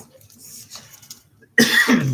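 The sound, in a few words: cough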